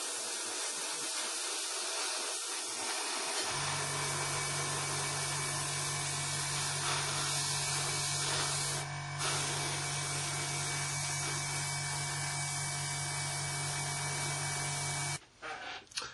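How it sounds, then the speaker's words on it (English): An airbrush sprays a weathering wash onto a model aircraft with a steady hiss over an ongoing low compressor hum. The spray runs continuously for most of the stretch and cuts off near the end. "pop it back in your airbrush for this particular part as we're doing it"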